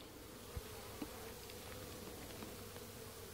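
Honey bees buzz around an open hive during an inspection, a dense continuous hum close by with a few faint knocks, and no talking.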